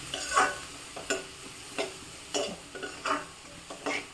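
Turmeric is stirred into onions frying in a pan, a quiet sizzle with a rhythmic series of spatula scrapes about every half second.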